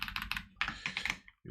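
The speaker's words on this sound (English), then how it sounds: "I'm not good at typing today" Quick bursts of typing on a computer keyboard while setting up a Java AI chat app, close and crisp, with a brief pause near the end before the keys resume.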